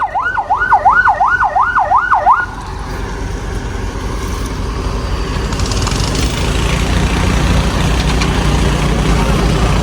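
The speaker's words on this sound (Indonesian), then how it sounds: "Ada ambulan lewat ini ya." An ambulance siren passes a concrete-pouring job site, its fast rising-falling wail loud and near for about two seconds before cutting out, leaving a steady rumble of engines and heavy machinery.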